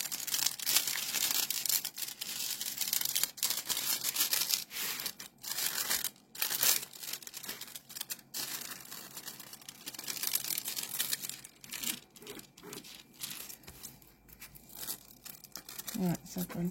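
Protective film is peeled slowly off a diamond painting canvas, giving a close, crinkly tearing and crackling sound that runs on and off throughout while someone talks over it.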